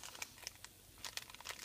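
Crinkling plastic wrapper of a Cardfight Vanguard booster pack, quiet close crackles and small snaps in irregular clusters, with a brief lull midway before a denser burst of rustling.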